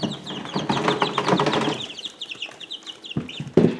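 Young chicks in a brooder bustle and flap their small wings, a dense close flurry of fluttering and soft peeping for the first two seconds, then quieter scattered chirps and a sharp bump near the end.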